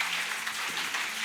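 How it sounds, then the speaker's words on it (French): A church congregation claps together in a steady, even wash of applause that fills the room for a brief moment. "applaudissons pour le Seigneur"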